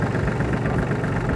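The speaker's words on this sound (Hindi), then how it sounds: "जैसे ही मैं क्लच दबा के इसको स्टार्ट करूँगा तो एकदम से" A Farmtrac Atom series tractor engine runs close by with a steady, even diesel idle throughout.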